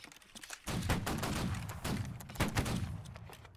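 Musket volley fire in Holdfast: Nations At War, a massed line-battle salvo of black-powder muskets crackling in a dense, overlapping burst of many shots, fairly loud with scattered sharper reports trailing through it.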